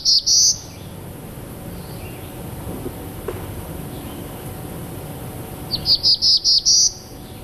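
Two bursts of a Black-throated blue warbler's high, buzzy song in Vermont, one brief at the start and a longer rising series near the end, separated by quiet low background noise.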